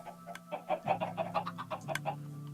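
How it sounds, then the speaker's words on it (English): Several Minecraft chickens cluck in quick, choppy bursts, fairly faint, over a low steady hum. "put in some adult chickens"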